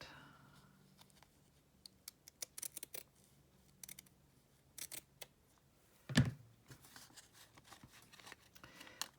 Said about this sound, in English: I want to trim that just a little bit.